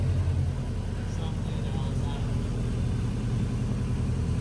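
Car exhaust with a Megan Racing downpipe, idling steadily with a low, even rumble throughout, fairly close and moderately loud, with no surge or rev.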